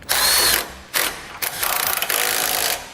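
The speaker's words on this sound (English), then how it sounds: "Now we can go ahead and tighten up our bolts." A hand ratchet tightens the bolts of a Curt trailer hitch receiver on a 2016 BMW X5, giving rapid buzzing clicks in three bursts with short pauses, close and loud.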